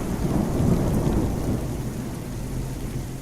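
Heavy rain pouring with deep rolling thunder, a loud rumble swelling early and then easing into a steady dense downpour, with no voices.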